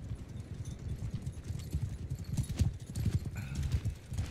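Rapid clip-clop of several horses' hooves pounding in a steady rush in Mount and Blade 2: Bannerlord, with a brief whinny, loud and close.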